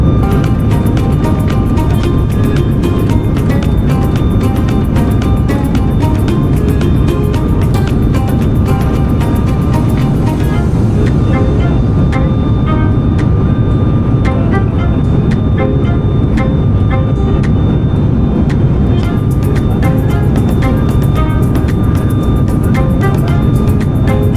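Passenger airplane cabin in flight on a short hop from Simara to Kathmandu, a loud, steady, unbroken engine roar and broadband rush filling the whole stretch with no talk.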